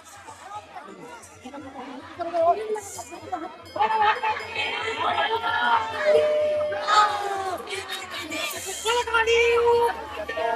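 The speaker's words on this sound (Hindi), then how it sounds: "इस डोले में भी बहुत ज्यादा भीड़ है।" Dense crowd at the Devidhar fair procession in Lohaghat, Uttarakhand, with continuous overlapping chatter and shouts from many voices close by, growing busier and louder after the opening seconds.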